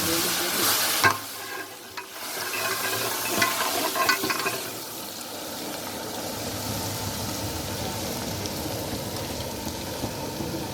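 Onions and spices frying and being stirred in a large cooking pot for a wedding dinner: a constant loud sizzle with scraping stirring strokes near the start, then an even frying hiss throughout.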